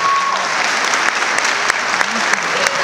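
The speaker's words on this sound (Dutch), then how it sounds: "Uw applaus voor Thijs Meijermans" The crowd at the Miss Fashion 2015 finale applauds Thijs Meijermans, first runner-up, with loud sustained clapping throughout and a few faint voices within it.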